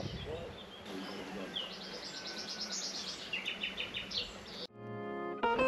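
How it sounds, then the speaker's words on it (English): Birds chirp and trill steadily over outdoor ambience, with repeated bright song phrases; near the end a sharp tonal electronic beep sequence cuts in. "Sound of birds."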